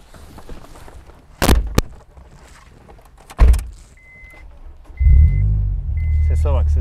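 A Honda S2000 sports car engine starts up and settles into a steady low idle rumble after a few sharp thumps and mechanical clicks, fairly close and loud.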